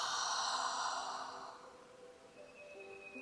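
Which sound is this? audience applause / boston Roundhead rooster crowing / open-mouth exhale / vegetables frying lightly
open-mouth exhale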